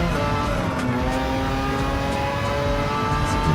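Race car engine in Gran Turismo 7 on PS5, a steady, loud sustained drone with held harmonic tones as the car runs at speed, alone without talk.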